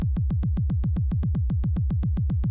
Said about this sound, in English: So we just have the classic 4 on the 4 kick pattern.